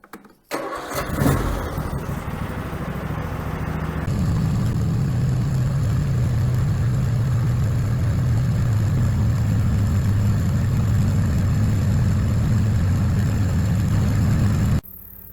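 A car or lawnmower engine cranks briefly after a short pause, catches, then settles into a loud, steady idle that runs unbroken until it cuts off at the very end.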